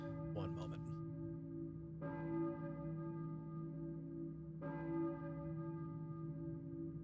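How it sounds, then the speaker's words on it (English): A church bell in the Silent Hill video game tolls twice, about two and a half seconds apart. Each strike rings out and decays slowly over a low steady drone in a quiet setting. "Church bell. The Balkan Church."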